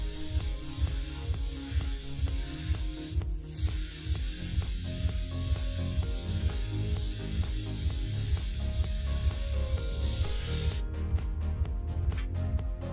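An airbrush sprays paint onto the window of a model train, giving a steady close hiss over a continuous musical background.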